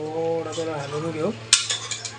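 A spoon scrapes and clinks against a cooking pot as rice is stirred in water for chicken pulao, a few sharp metallic knocks in the second half after a brief voiced sound at the start.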